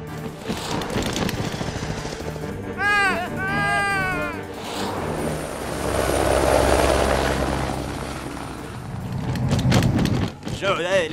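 A cartoon helicopter's thudding rotor drones loudly and steadily, mixed with shrill cartoonish vocal sounds and other effects that come and go.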